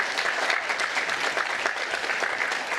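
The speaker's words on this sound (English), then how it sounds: "Let's give them a round of applause." An audience at a university Grad Slam finals event claps steadily, a dense, even wash of applause from many hands lasting throughout.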